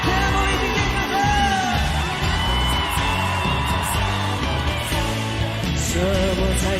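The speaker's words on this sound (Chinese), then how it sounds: "全部一起尖叫声。" At a Taiwanese New Year party, a big crowd yells and whoops together, loud and continuous, with music playing beneath the massed voices.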